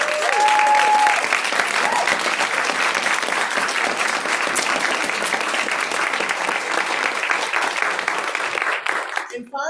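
Sustained audience applause at an awards ceremony honoring the DICE committee, dense even clapping that holds steady for several seconds, then tapers off at the end.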